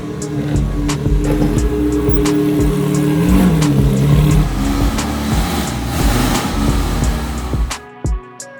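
A Ferrari 360 drives slowly around back toward a lift, its engine a loud, close, steady rumble with slight revving partway through before it cuts off near the end.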